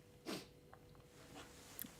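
A single sharp, breathy sneeze bursts out near the mic, followed by quiet rustling and faint small noises.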